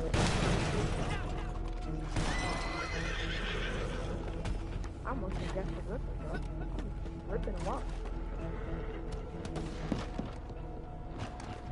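In Red Dead Redemption 2 Online, a horse whinnies over a busy mix of clattering hooves, creaking wagon and ratcheting mechanical noises, all close and continuous.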